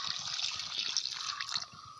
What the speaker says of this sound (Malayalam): ഇത്രയും വെള്ളം ഒഴിച്ച് തിളയ്ക്കാനായിട്ട് അടുപ്പത്ത് വെച്ചിട്ടുണ്ട്